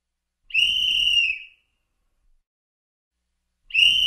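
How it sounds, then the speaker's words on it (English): A whistle gives two long, shrill, steady blasts, each about a second long, separated by a few seconds of silence, loud and close with no other sound. "The sound comes from the whistle."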